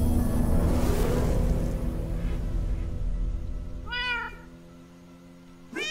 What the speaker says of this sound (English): Oh, a cat. That's strange.